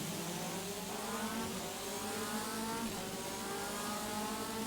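Onboard a race car at a race start in the MCR Championship at Cadwell Park, a dense engine roar holds steady and loud throughout, with a continuous buzzing drone and no talk over it.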